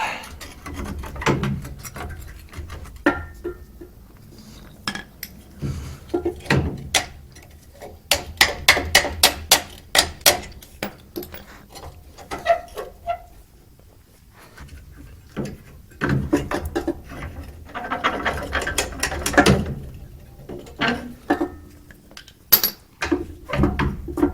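A ratchet works a U-bolt nut loose on the rear axle of a 1958 Plymouth, giving bursts of sharp metallic clicking close by, broken by short pauses and a few heavier clanks.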